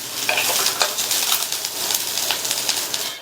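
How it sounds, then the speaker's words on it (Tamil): Cauliflower sautéing in oil crackles loudly and close, with a busy, continuous sizzle and the scrape and clatter of stirring throughout. "இந்த எண்ணெயிலேயே இந்த காலிஃப்ளவரை நம்ம வதக்கிட்டே இருக்கணும்."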